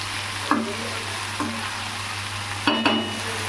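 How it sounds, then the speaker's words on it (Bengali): Onion and taro stolons sizzle in salted oil in a pan as they are fried until reddish, a steady hiss broken by a few clinks of stirring. "এখানে আমি লতিটা, পেঁয়াজটা ভালো করে একটু ভেজে নিই লাল লাল করে"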